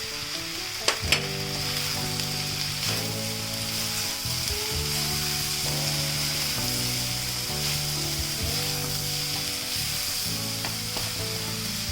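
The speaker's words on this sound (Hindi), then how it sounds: "हमें 5 से 7 मिनट तक बस इन वेजिटेबल्स को सॉटे करना है" Vegetables for American chop suey sautéing in a pan with black pepper and red chili flakes: a steady, loud sizzle and crackle with occasional stirring clatter, no voices.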